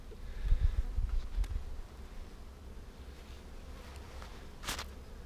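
Bees in a bee yard around an open hive, a faint buzzing with a few rustles and handling thumps early on and one brief louder buzz passing close near the end.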